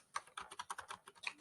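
Rapid keystrokes on a computer keyboard while entering text into a Microsoft Word 2019 brochure, a steady run of close, crisp clicks with no voices.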